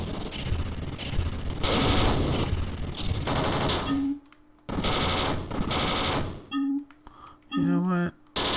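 Rapid video-game gunfire from General Chaos on the Sega Genesis, dense bursts of machine-gun shots running for several seconds and breaking off, then a few short electronic tones close the stretch.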